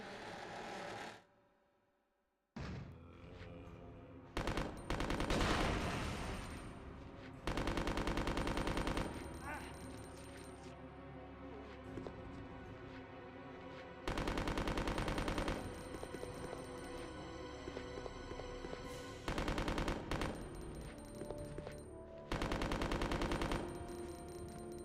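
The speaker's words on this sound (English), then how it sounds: "You have machine guns." Machine gun fire in Resident Evil Code Veronica, long loud rattling bursts repeating with short pauses between them, mixed with game sounds and occasional voices.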